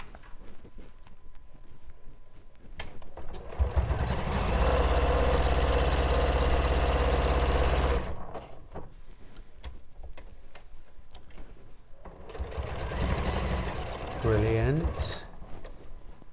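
A sewing machine stitches a fabric bag in a quilting session, running in a steady fast whirring burst for about four seconds and then a shorter second run, with people talking quietly before and between.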